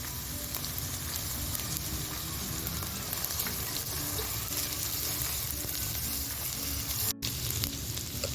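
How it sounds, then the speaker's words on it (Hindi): Ginger-garlic paste sautéing with onions in a pan for kofta curry, a dense, constant loud sizzle with crackling throughout, steady and close, with no talking. "अब इसमें अदरक लहसुन की पेस्ट डाल दीजिए और इसको भी प्याज के साथ अच्छी तरह सौते कर लीजिए।"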